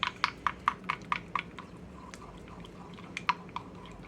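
A chopstick stirring garlic powder and other dry seasonings in a small bowl for homemade meatloaf: quick, light clicking taps in a rhythmic run, then a pause and a few more, close and quiet.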